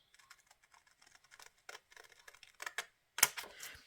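Thin washi tape being snipped in a bullet journal, a quick run of faint, light clicks and ticks close by that builds to one sharper, louder snip near the end, with no talking.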